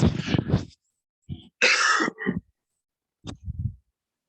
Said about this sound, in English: sorry folks if I'm coughing in the microphone a lot.